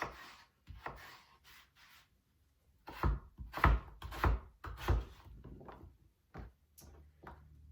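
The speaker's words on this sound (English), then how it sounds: "the smaller that you cut them, the faster that your potato will cook" A knife chops potatoes on a cutting board in uneven clusters of close, dull knocks, with a denser run of cuts in the middle and a few scattered strokes near the end, no talking.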